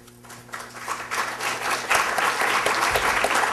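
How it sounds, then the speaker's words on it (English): An audience at a Supreme Court review event for Constitution Day breaks into applause, a dense wash of clapping that swells and holds steady at a moderate distance. "I'll take that as applause"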